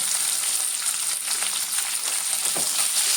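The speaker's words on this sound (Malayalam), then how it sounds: "2 മീഡിയം സൈസ് സവോള ചെറുതായിട്ട് അരിഞ്ഞു ഉപ്പിട്ട് നല്ലോണം വഴറ്റിയെടുക്കാം" Finely chopped medium onions with salt sauté steadily in hot oil for a bitter gourd tamarind curry, a continuous close sizzle and crackle with no voices.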